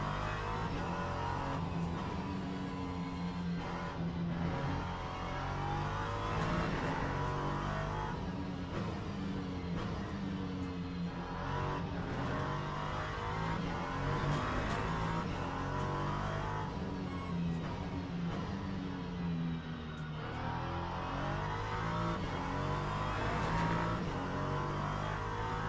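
Daytona P2 prototype race car engine at Fuji in a racing video game, droning steadily and loud throughout with rising and falling revs, gear changes and continuous acceleration.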